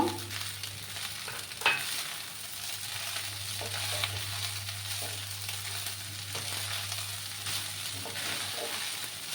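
Paneer pieces fry in a pan with leftover rice, giving a steady, close hiss of sizzling oil with occasional soft stirring knocks underneath.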